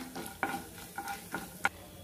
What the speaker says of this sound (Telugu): ఈ పోపు అంతా బాగా వేగాలి